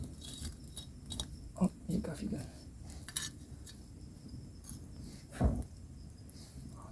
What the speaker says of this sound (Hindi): अब मैं इस आग पर उस टूटे हुए मिट्टी के बर्तन को रखने वाला हूँ इस तरह।